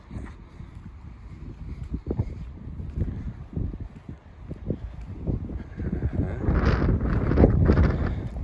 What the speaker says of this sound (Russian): Ветер здесь, конечно, такой хороший.